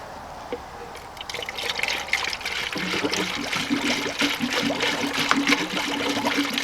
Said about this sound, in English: And we want to fill this radiator right to the top.